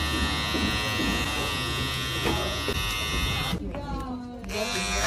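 An electric shaver buzzes loud and close during a head shave as part of a prank, a dense steady drone that shifts pitch briefly near the end while people talk over it.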